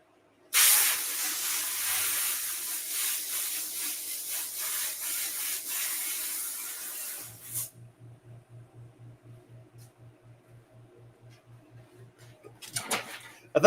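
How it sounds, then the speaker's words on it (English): A garden hose sprays water to blow off a brick mould: a loud, close, broad hiss runs for about seven seconds and then cuts off, leaving a faint rhythmic low hum and a brief burst of spray near the end. "Let me go blow this one off with the hose over here."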